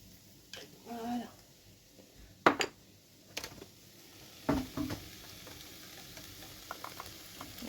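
Garlic and semolina fry in a pan with a faint, low sizzle, broken by a few stirring scrapes and clinks while a person speaks in French.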